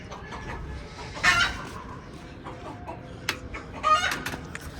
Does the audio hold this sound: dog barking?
no